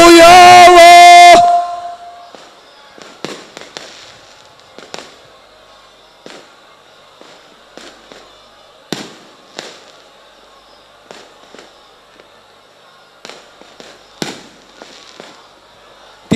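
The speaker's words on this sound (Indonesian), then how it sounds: "Tidak diizinkan petasan itu masuk ke masjid." Firecrackers go off outdoors at a large religious gathering in a town square in Batu, an irregular string of sharp cracks and pops, some near and loud, others fainter, after a brief loud tonal burst.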